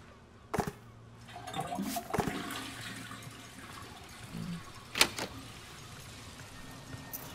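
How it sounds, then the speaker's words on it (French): A toilet flushes in the video game Redfall: a sharp click, then rushing water with gurgling bursts and another sharp clunk later, fairly close and without talk. "J'ai tiré une chasse d'eau dans Redfall,"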